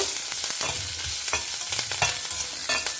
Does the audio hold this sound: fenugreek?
yes